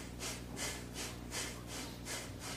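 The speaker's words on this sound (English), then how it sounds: "Energize breathing." Deep, energizing breaths of an Iron Shirt Chi Kung exercise rush in and out in a steady rhythm of about five quick, close, soft cycles with no talking.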